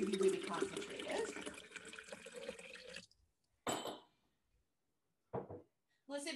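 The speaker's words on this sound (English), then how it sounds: "I'm putting in about 2 cups of filtered water into mine" About two cups of filtered water poured into a container for lemonade, a pouring trickle for several seconds followed by short bursts of further liquid sounds with silent gaps between them.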